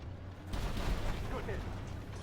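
An artillery shell strikes in a tank video game, a dull heavy thump followed by a rumbling burst. A voice talks over it.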